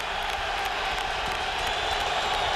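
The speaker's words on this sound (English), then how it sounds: "Once again, the crowd getting vocal." A football stadium crowd at a 2000 Steelers at Jets game roars in a steady, dense wash of noise that never lets up, with no clear voice standing out.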